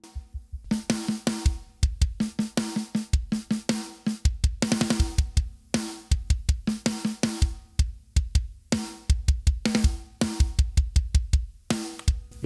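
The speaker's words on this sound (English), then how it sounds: "it makes your drums sound fatter and adds the missing frequencies that you would struggle to get back otherwise" A punchy full drum kit plays a busy groove with deep, fattened kick and snare, filtered low channels blended in, hits tightly rhythmic, loud and close with ringing cymbals between beats.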